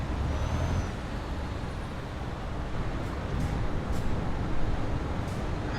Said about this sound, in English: I am going to release our brakes.